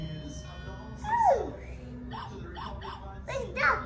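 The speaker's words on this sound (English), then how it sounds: "Then dog is here." A dog whimpers and yips in short, rising whines with a louder bark-like yelp, close by, while faint background noise continues.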